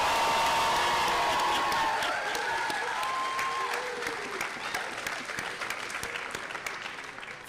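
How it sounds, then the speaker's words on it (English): Family and friends at a health sciences university white coat ceremony clap and cheer loudly, with whoops and shouts over dense, sustained applause that slowly thins. "I want all family and friends to cheer as loud, clap, okay?"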